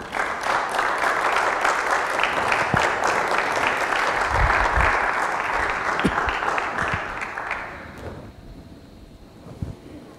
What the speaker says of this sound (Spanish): Dar un aplauso a Jesús.